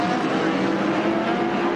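Racing cars accelerate hard out of Druids Bend at Brands Hatch on a warm-up lap for the British Grand Prix, climbing away in second gear downhill; a steady, loud engine drone fills the clip without a break.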